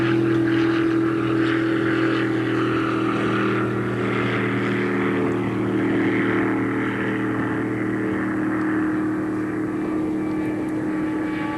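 Outboard race boats chase a mini inboard during a 1975 Parker Enduro race, a steady loud roar of several high-revving marine engines with strong droning harmonics, holding near and continuous throughout with no voices.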